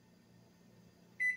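A microwave oven gives a single short electronic beep at the very end, after a low, quiet kitchen hum.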